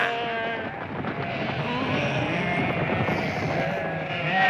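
Sheep bleat in an animated cartoon as a flock is driven along, a dense and continuous chorus of overlapping bleats that holds steady throughout.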